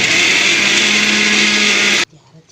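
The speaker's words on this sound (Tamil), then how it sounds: "அதை போட்டு அரைச்சிக்கலாம்." A mixer grinder whirs loudly and steadily as it grinds oil-roasted red chillies, a dense continuous motor roar for about two seconds that cuts off abruptly into near silence.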